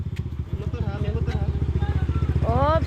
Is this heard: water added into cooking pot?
no